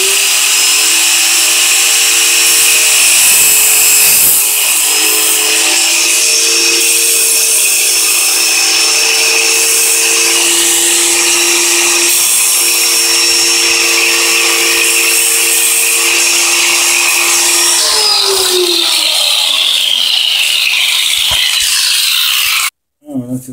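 An angle grinder whines loudly and steadily at close range during electrical socket wiring work, holding a high pitch for most of the stretch before winding down and cutting out near the end.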